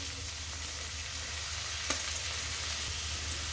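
Fried rice sizzling steadily in a hot pan after a splash of soy sauce, a faint continuous crackle with a brief clink near the middle.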